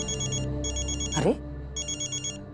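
A telephone rings in repeated electronic bursts at a steady rhythm, fairly close and clear, with a brief swooping sound cutting in between rings and no speech.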